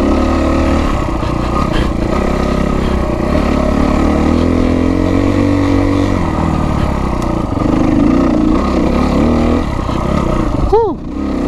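Kawasaki KX250F dirt bike ridden on mountain trails at Rampart Range, Colorado, its engine droning steadily and close with shifting pitch throughout, ending in a brief sharp rev.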